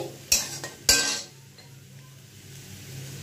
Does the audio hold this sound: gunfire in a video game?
no